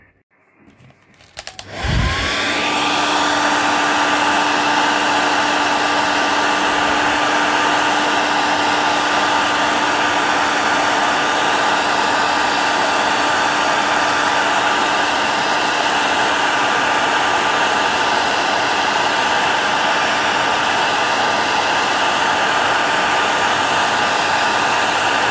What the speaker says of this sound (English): That was about 30 seconds then with the air dryer.